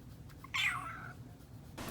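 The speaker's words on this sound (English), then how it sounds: "let's see what my sister's cat Meatball has to say" A house cat gives a single drawn-out meow, quiet and fairly close, alone in an otherwise still room.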